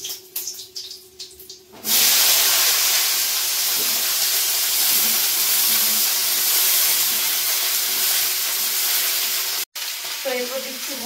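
Vegetables tossed into a hot pan in a village kitchen, with ginger and black cumin already in the oil: a sudden loud burst of sizzling and steaming after a quiet start, sustained hiss with stirring scrapes, briefly cut, then resuming.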